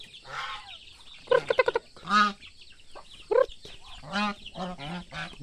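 Backyard chickens, roosters among them, cluck and squawk nearby during feeding time, in bursts of loud, harsh, honking calls separated by short gaps.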